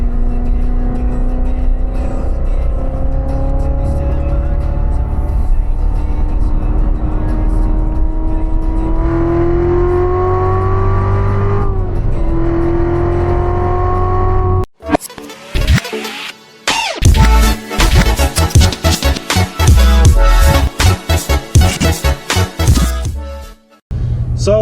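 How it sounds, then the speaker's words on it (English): A 2015 Corvette Z06 with a seven-speed manual transmission: a smooth engine drone climbs steadily in pitch, then breaks into loud, close, choppy bursts of revving and gear changes. "This is a 2015 Corvette Z06 in a 7-speed manual transmission."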